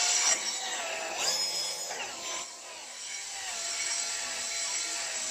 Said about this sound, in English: matching the speed of the drill to the speed of the in and out motion